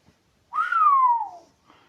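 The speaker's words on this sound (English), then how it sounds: "one newbie couldn't help but just whistle" Someone lets out a single loud whistle that jumps up and then slides smoothly downward over about a second, close and alone, like a wolf whistle at a woman.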